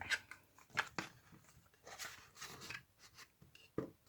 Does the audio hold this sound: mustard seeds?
no